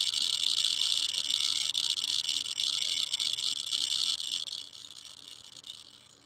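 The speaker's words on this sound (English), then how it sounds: "there's 2 watts of Geiger clicking noises." Geiger clicking from a Radiacode radiation detector forms a dense, hissy stream of rapid clicks that stays steady and loud, then fades slightly toward the end, with no voices.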